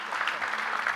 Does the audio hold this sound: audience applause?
yes